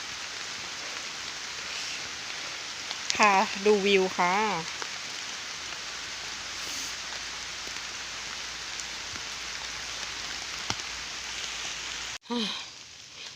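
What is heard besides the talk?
rain falling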